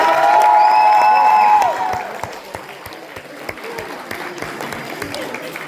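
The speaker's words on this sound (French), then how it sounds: "Applaudissez-les." A convention crowd at a cosplay contest claps and cheers for the contestants, a loud burst with a rising shout at first that settles into lighter, scattered clapping with a few sharp individual claps.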